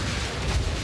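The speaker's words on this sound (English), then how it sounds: "Yes, explosions." Explosions in the action RPG Path of Exile 2, a dense, rumbling burst of booming blasts packed close together over a brief moment, loud and up front with no talk.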